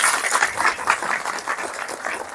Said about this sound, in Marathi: सगळ्या सेवेकरांसाठी जोरात आपण टाळ्या वाजूया